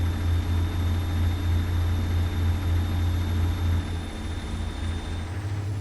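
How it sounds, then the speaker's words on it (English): A heavy truck engine drones in American Truck Simulator, a steady deep rumble with a constant loud hum that stays even for the whole stretch and carries no talk over it. "I love the engine sounds"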